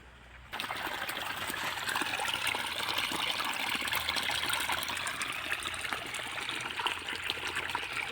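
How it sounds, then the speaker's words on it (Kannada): Irrigation water pours steadily from connected pipes into a farm field, a continuous close rushing trickle that starts abruptly after a brief quiet moment and holds on evenly with no voices. "ಪೈಪೆಲ್ಲ ಜೋಡಿಸ್ಬಿಟ್ಟು ನೀರು ಆನ್ ಮಾಡ್ಬಿಟ್ಟು ಹೊಲಕ್ಕೆ ನೀರು ಕಟ್ಟೋಣ ಅಂತ ಬಂದೆ"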